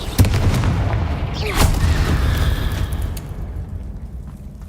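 A Confringo spell explodes in Hogwarts Legacy with a loud boom and a whooshing streak, then a rumbling tail that slowly fades.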